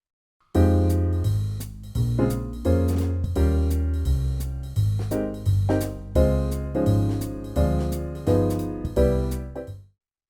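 An improvisation app plays jazz piano voicings with upper structures and full voicings. A long, steady run of dense, ringing chords changes about once a second, with nothing else heard.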